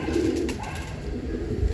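A hobby pigeon coos close by in low, soft, repeated throaty phrases, with a steady murmur of other birds behind it and no talk.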